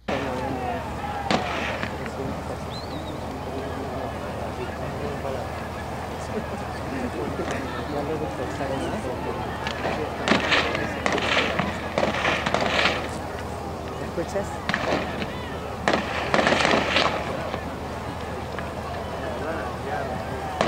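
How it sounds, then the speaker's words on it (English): Police fire on rioting miners, with scattered loud cracks and bursts of shots against a constant roar of crowd noise and shouting, while people talk over it. "the police are shooting at these people and they're not really dispersing"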